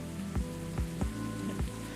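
Rain falls in the café game Coffee Talk as a steady, dense hiss, with soft rhythmic low thuds from the game's music pulsing beneath it.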